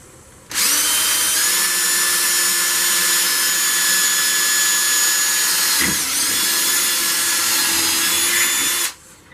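A cheap Chinese benchtop mill drills angled pilot holes into wood, giving a steady, loud, high-pitched whine with a grinding edge that runs for about eight seconds, dips briefly midway, then cuts off.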